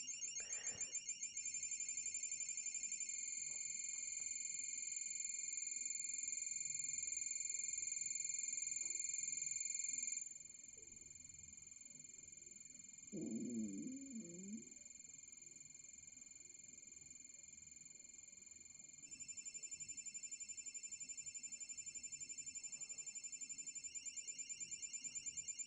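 Shrill, steady electronic beeping tones from a slot machine game on a Rolodex Mini USB PDA drone on at high pitch, briefly stopping midway before resuming, with a faint low murmur underneath.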